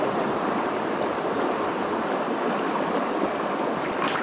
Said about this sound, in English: We're gonna take out this rock, wash it off